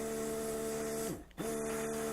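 A Weller WXR 3003 soldering station's hot air tool blows with a steady whirring hum, dipping briefly in the middle before resuming at full strength.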